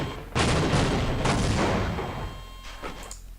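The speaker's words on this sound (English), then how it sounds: "The rumble is happening long before the explosions." A video game map explosion gives a loud, close, sustained rumbling roar that swells, slowly fades, then flares again in a shorter burst near the end.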